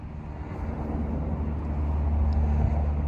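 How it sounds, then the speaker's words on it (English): A Ferrari 12Cilindri sports car with a steady low engine rumble, fairly close and continuous, swelling slightly toward the end with no talk over it. "Ferrari 12Cilindri is here."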